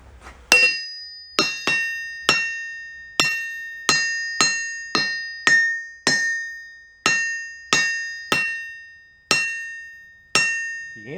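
Hammer blows ring out on an old barn-find anvil, about fifteen sharp, bright metallic strikes at a steady, unhurried pace, each leaving a clear ringing decay.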